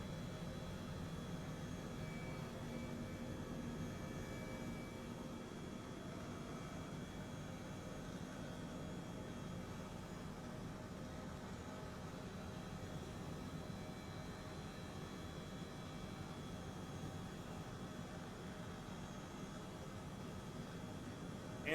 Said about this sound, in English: Those are Argentinian aircraft.